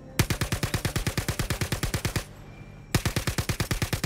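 Automatic gunfire in the Star Citizen game: two long rapid bursts of evenly spaced, punchy shots separated by a short pause, loud and close, with no voices.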